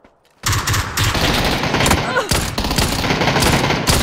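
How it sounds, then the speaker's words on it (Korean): PUBG gunfire erupts after a brief silence: a loud, dense, continuous volley of rapid shots with echoing reports. "마지막 한 명 뒤에, 뒤편에 쏜다."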